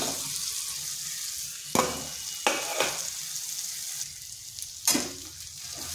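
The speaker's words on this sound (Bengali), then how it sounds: "আলুটা বেশ ভালো করে এই মশলার সাথে কষে নিচ্ছি" Boiled potatoes being fried with spices in a pan, a constant hiss of frying oil broken by several sharp scraping stirs of a spatula, close and with no talking.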